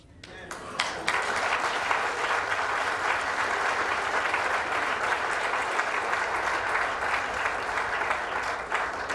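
Sustained audience applause honouring civil rights foot soldiers, a dense, steady roar of many hands clapping that swells in within the first second and holds at full strength throughout.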